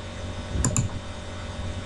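A single Enter key pressed on a computer keyboard while working in an Excel spreadsheet, a short sharp double click near and clear over a quiet room background.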